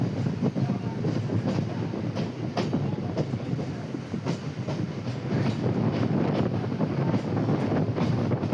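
Passenger train on the Tenali to Guntur line heard from on board, a steady loud rumble with rhythmic clickety-clack of wheels over rail joints and wind buffeting the microphone throughout.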